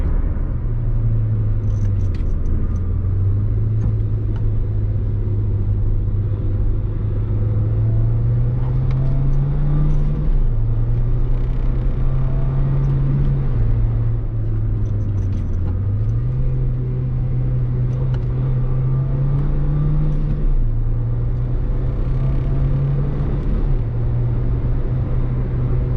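Steady low engine drone from a Nissan Juke with a manual transmission, the pitch stepping up and down through gear changes as it drives and revs, heard from inside the cabin with constant road rumble and no talk.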